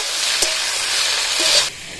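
Vegetables with gram greens sizzle in a frying pan while being stirred, a close steady hiss with a couple of sharp scraping knocks before the sizzle drops away near the end.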